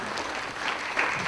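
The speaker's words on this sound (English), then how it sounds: "give her a hand applause" Short burst of audience applause at a neighborhood watch annual meeting, a steady wash of clapping from a small room crowd that swells slightly near the end.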